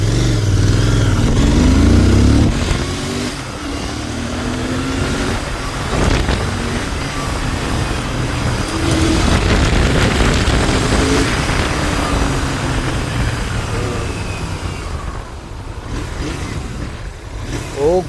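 A Royal Enfield Continental GT 650 (650cc) motorcycle is ridden at full throttle, its engine revving loudly and continuously with rising and falling roar and wind noise throughout.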